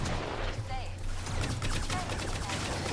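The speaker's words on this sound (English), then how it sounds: "Let's shoot these guys and see." Rapid bursts of gunfire in the online shooter Firefall, dense crackling shots that repeat throughout, heard close and loud with a player's voice in the background.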